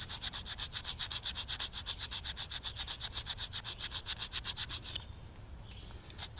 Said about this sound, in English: Not great at scraping.